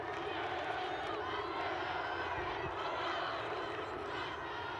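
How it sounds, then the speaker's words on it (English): A women's college lacrosse crowd at a championship quarterfinal roars steadily for the James Madison defense, a dense, continuous wash of cheering and shouting that holds for the whole stretch at a fairly even level. "The crowd trying to spur on the JMU defense."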